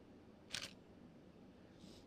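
A camera shutter set to a fast speed fires once with a sharp, quick click, close but quiet, followed by a fainter soft tick in an otherwise hushed room.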